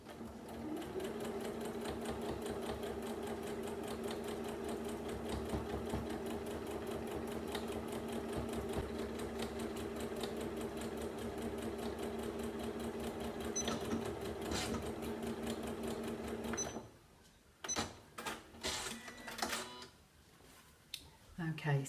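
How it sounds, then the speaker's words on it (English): A sewing machine runs steadily, stitching a quilted Christmas stocking seam by seam under the presser foot, a continuous close mechanical drone for most of the clip before stopping, followed by brief handling noises. "It might be easier sewing this from the quilted side because then you can make sure that all these seams are going under the presser foot neatly."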